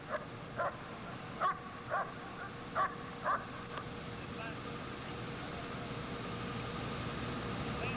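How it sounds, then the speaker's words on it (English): A police dog barks during apprehension training, about six sharp, moderately distant barks in quick pairs over a steady outdoor hum, then the barking stops and only the background remains. "Some police dog training here at the Preytorian Guard."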